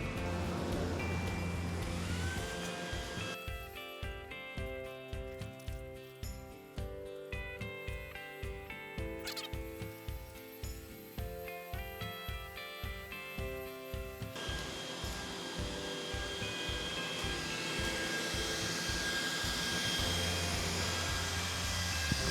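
An ACMER S2 Pro 48W diode laser engraves a square in two passes at 5 mm/s and 70% power: a steady fan-like whir with a rapid pulsing rhythm from the moving head, close and fairly loud, no talking.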